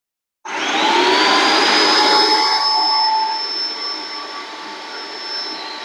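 A Phalanx airless paint sprayer kicks on after a brief silence and runs as a loud, close, high-pitched motor whine and rushing hiss that holds steady, then eases slightly toward the end.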